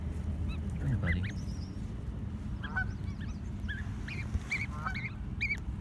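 A baby goose gives faint, high peeping calls in short scattered bursts near a pond, over a steady low rumble of wind and handling noise.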